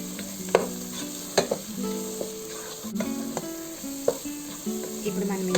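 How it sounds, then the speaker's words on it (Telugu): Spiced chicken korma masala with cumin powder and turmeric sizzles in a pan while a spoon stirs and scrapes, giving periodic sharp clacks over a steady frying hiss, close and alone. "ఒకసారి కలుపుకొని"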